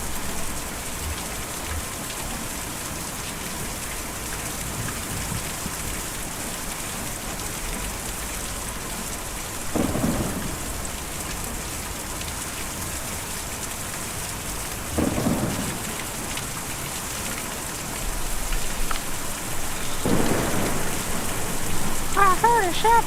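Steady heavy rain pours throughout an audio drama scene, broken by three deep rumbling thunder cracks at regular intervals, loud and close, with no voices over it.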